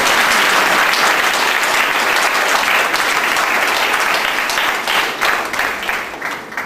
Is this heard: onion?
no